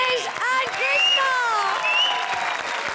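A studio audience at the Comedy Circus show applauds, with a crowd's clapping running under a loud voice for a few seconds.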